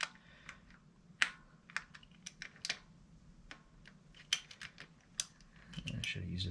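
A socket wrench works the 8mm bolts on the oil filter cover of a 2022 CF Moto 300NK motorcycle, giving sharp, irregular metallic clicks and ratchet ticks, quiet and close, with a brief voice at one point.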